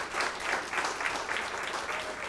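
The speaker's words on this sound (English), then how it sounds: "How about one more round of applause for everybody you guys have seen?" A comedy club crowd at Go Bananas gives one more round of applause for the performers, dense and continuous clapping with scattered cheers, loud and close throughout.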